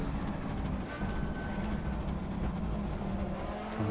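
An Audi S1 E2 Quattro rally car accelerates hard on a circuit in Assetto Corsa, a steady loud engine roar with rising tone that carries without pause for several seconds.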